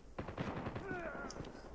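Gunfire in the video game Call of Duty Mobile, a short quick burst of shots heard fairly faintly with game effects and no speech.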